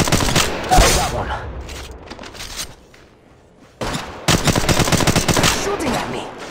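Rapid automatic gunfire in Apex Legends Mobile erupts in loud, dense bursts, pauses briefly, then resumes as a sustained close fusillade.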